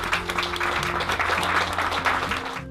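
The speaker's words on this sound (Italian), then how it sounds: "Grazie Franco Roll, un applauso." Audience applause at a documentary screening event, a steady dense clapping that is close and loud throughout, with a tonal hum underneath and no speech over it.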